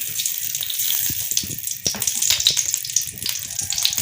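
About 100 grams of ghee heating in a clean pot on a home stove for a chicken and pea dish, a steady soft crackling hiss with scattered small pops, close and continuous.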